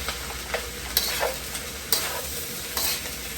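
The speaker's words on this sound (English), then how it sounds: "we're going to mix everything up. Make sure everything is perfectly combined." Turkey and ham fried rice is stirred in a hot pan, with a steady sizzle throughout and sharp scraping strokes at irregular intervals, all close and without voices.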